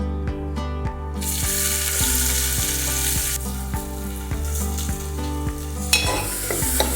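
Two finely chopped onions sauté in a pan over low heat, giving a steady, close sizzle with scraping stirs and a few bright clicks of the spoon, and no voices.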